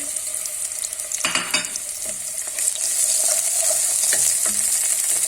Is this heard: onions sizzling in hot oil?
yes